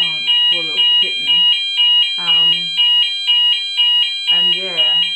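A fire alarm rings at 1am as a steady, loud, repeating electronic pulse with a regular on-off rhythm, while a person speaks in short bursts beneath it.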